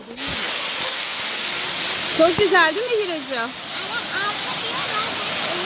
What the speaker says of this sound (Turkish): Böyle bir şelale yapılmış.